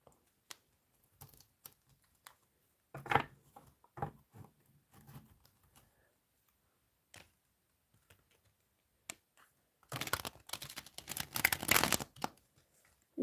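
Shiny tarot cards are shuffled by hand close up, with soft scattered taps and flicks, then a denser riffling burst near the end, quiet and with no talking.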